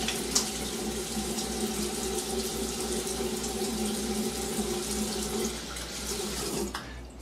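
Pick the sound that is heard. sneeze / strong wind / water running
water running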